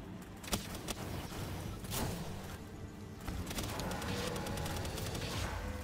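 Pal Alliance enemies firing at the player in Palworld, a handful of sharp, fairly quiet gunshots scattered over a low ambient rumble, with no talking.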